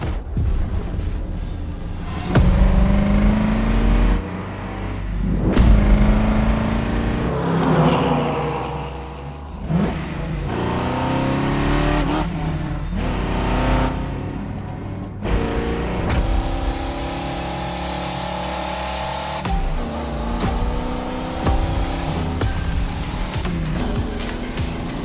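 A 1982 Pontiac Firebird Trans Am in The Crew Motorfest revs loudly and steadily, its engine note rising and falling through repeated climbs and gear shifts, close and continuous with no talk.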